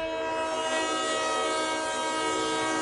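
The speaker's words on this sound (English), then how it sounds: "You know I love the train whistle." An Ontario Midland railroad locomotive, number three, sounds its whistle in one loud, sustained, multi-tone chord held steadily from start to finish, with no voices over it.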